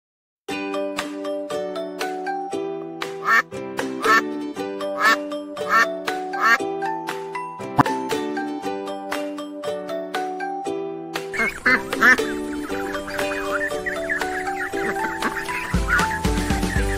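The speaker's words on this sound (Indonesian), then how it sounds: "Bebek." A duck's quacking comes through over a bright, tinkling music track with bell-like notes, repeated calls scattered across the clip, fairly loud and close.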